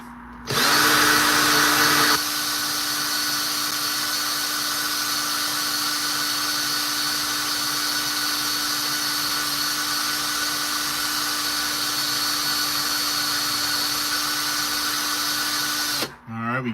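A handheld power tool drives sandpaper against a pure copper ring in one steady, high-pitched whine, close and continuous for the full length before cutting off.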